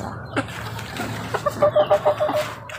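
A young Asil chick clucks in short, quick bursts, several soft calls clustered close together near the end. It sounds close and moderately loud against a quiet farmyard background, with no voices.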